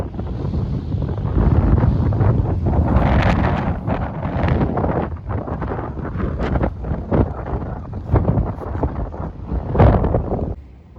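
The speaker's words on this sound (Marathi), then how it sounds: "आत्ता इतकं वारं सुटले जोरात" Strong wind blows outdoors, buffeting the microphone with loud, continuous rumbling gusts that swell and ease over about eleven seconds, with no voices.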